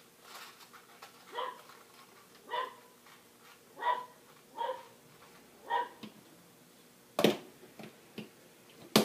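Dog barking in the background of an indoor origami session, about six separate muffled barks spaced a second or so apart, followed by a louder sharp yip and a few softer sounds near the end.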